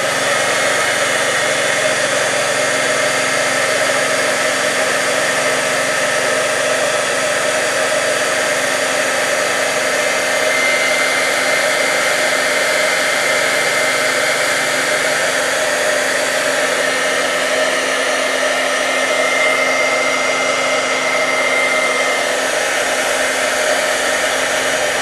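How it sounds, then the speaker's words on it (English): A heat tool blows steadily and loudly for the whole stretch, setting shimmer paint and glitter on a handmade greeting card, a constant hissing roar with no pauses. "And then I'm just going to heat set that,"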